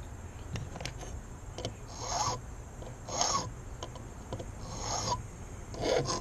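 A metal file rasps the burrs off the edges of a key blank for impressioning a Schlage KiK cylinder lock, in four slow, light strokes about a second apart over a steady low background.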